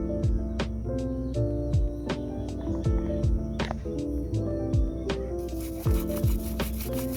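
Wire-brushing rust off a Yamaha motorcycle T-post, a steady close scraping rub with repeated strokes and sharper scratches, louder and brighter toward the end, alone.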